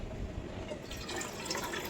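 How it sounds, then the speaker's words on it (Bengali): Water pours steadily into a cooking pot for oats on a gas stove, a continuous close splashing and filling rush with no talk. "জলটা দিয়ে নিই।"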